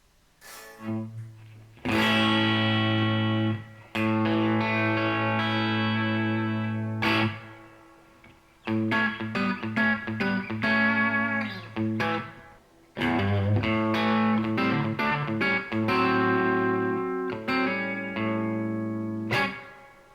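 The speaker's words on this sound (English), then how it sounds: "I'm going to put in a nice little plate reverb here" Distorted electric guitar chords through a plate reverb on a Fender Tone Master Pro ring out in several sustained phrases, with a lush reverb tail filling the gaps between strums.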